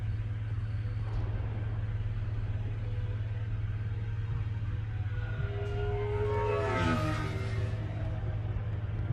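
Car engine driving in the video game Mass Effect 2: a steady, loud low rumble that holds throughout, with a brief whooshing rise near the end.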